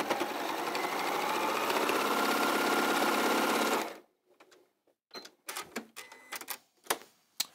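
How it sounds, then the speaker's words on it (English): A sewing machine running a quarter-inch seam on quilt fabric for a Moda kimono quilt, a loud steady whirring stitch for about four seconds that stops abruptly, followed by soft scattered handling clicks and taps. "all I do is I now sew down this line over here"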